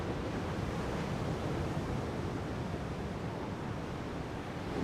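Waves break steadily on a Brazilian beach, a broad continuous roar of surf with some wind noise, loud and even throughout with no voices.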